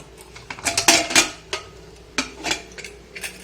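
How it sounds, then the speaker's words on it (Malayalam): A pressure cooker lid is worked open after the pressure has fully released, making a series of sharp metallic clanks and rattles in separate bursts, close and fairly loud, with no talk. "അപ്പൊ നമ്മുടെ കുക്കർ കംപ്ലീറ്റ് പ്രഷർ പോയിട്ടുണ്ട്. നമുക്കിത് തുറക്കാം."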